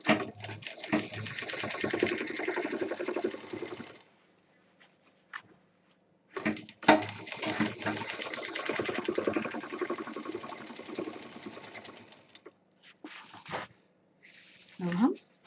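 Sewing machine stitching a college bag, running in two long whirring bursts separated by pauses, then a few short stitching spurts at the end, close and fairly loud.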